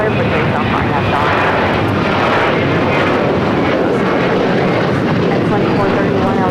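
An airliner roars on its takeoff roll from runway 25 right at LAX, a loud, continuous broadband rush of engine noise that stays steady and close throughout.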